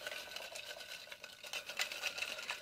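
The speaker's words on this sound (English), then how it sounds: "shake the shit out of it, mix them all up" Paper prompt slips shaken and tossed inside a box to mix them, a quiet steady rustling and papery scuffing with soft rhythmic bursts, alone without talk.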